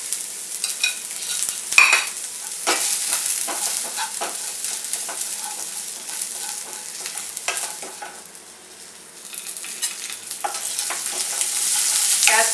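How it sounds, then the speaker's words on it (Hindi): Onions and poppy seeds frying in a pan for Maharashtrian masala rice, a close, steady sizzle with repeated spoon scrapes and stirring, pausing briefly before the hiss picks up again, with no talking. "प्याज को हम ब्राउन कर लेंगे"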